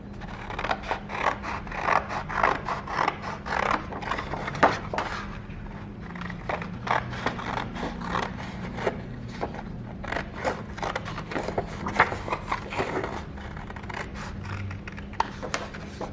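Scissors snip through paper to cut out a paper-sloyd picture frame, a steady run of short, close, crisp cuts and scrapes with slight rustling, no voices.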